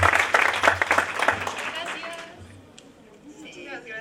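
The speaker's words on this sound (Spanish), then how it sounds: "un aplauso a Irene, por favor" Brief audience applause at a book presentation at a literary fair, fairly loud clapping for about two seconds that fades into quieter room sound with some talk.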